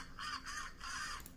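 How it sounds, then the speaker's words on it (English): AI-generated seagulls caw in a series of repeated, wavering calls over a steady, airy background hiss, fairly close and continuous without any voices. "So right here I wrote seagulls cawing."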